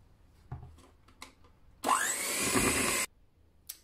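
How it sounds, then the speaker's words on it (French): An electric hand mixer whips cream for a raspberry layer cake in one loud, steady whirring burst of about a second, with a few faint clicks and knocks before and after. "je vais encore utiliser mon batteur, pas besoin de sortir mon gros robot pour la crème"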